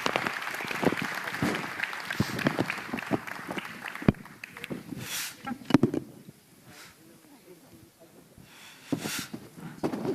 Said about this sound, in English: I'd like to invite you to give everyone a round of applause, please.